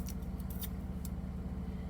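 Scissors snip through two layered craft pieces at once, a few quick faint crisp cuts over a low steady hum.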